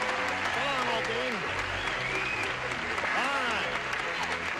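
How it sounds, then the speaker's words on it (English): Steady applause from a 1976 Match Game television studio audience fills the space, with a voice talking over the clapping throughout. "Let's have a nice round of applause for Colonel Jerry Birch"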